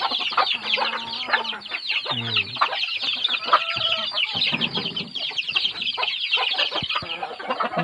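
A flock of native chickens, including a bulik-feathered bird, clucks and squawks continuously and loudly up close, many overlapping calls with no pauses.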